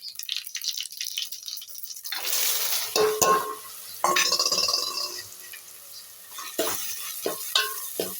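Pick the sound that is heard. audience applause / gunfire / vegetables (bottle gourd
vegetables (bottle gourd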